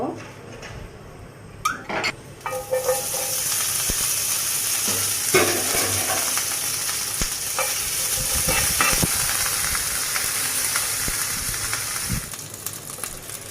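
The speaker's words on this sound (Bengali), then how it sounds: "এখন আমি শুটকিটা একটু ভেজে নেব।" Steady frying hiss and sizzle of dried loitta fish in a pan with occasional stirring clatter, close and continuous throughout.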